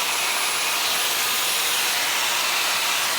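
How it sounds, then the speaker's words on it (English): A blow dryer fitted with a diffuser running on low heat while drying curly hair, a steady, loud, close airy whoosh that holds unchanged throughout with no talking. "When you don't have time, I would use a diffuser. It just connects to your blow dryer."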